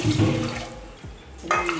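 Water runs and splashes from a cup into a cooking pot in a short burst, with a brief gurgle near the end.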